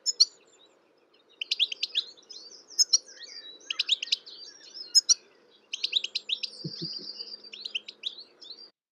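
Chaffinch song rings out in repeated bright, rattling phrases of quick chirps, fairly close and loud, with brief pauses between bursts over a faint low hum.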